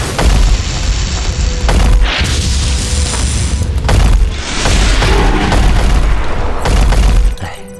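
A spiritual energy explosion in a fantasy animation bursts as a loud, deep, rumbling boom that rolls on in waves with crashing debris throughout, ending abruptly.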